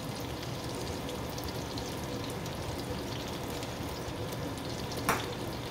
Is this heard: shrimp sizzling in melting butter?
yes